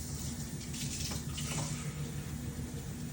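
Tap water runs steadily into a kitchen sink for hand washing during breakfast meal prep, a continuous close, moderately loud stream with no talking.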